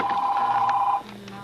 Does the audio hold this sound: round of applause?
no